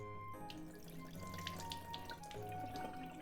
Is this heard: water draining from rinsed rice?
yes